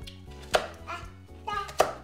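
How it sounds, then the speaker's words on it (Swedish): An onion is chopped with a knife in a home kitchen: a few sharp, close knife strikes on a cutting board land at uneven intervals, with quiet background hum and no talking. "Skala den till mamma, Ivy, så kan mamma sen hacka den."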